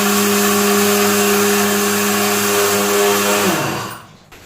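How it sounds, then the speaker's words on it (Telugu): A kitchen mixer grinder whirs loudly and steadily as it grinds sago and semolina into fine powder, then spins down and stops near the end. "దీన్ని అయితే నేను మంచిగా ఇట్లా మిక్సీ పట్టేస్తున్నా"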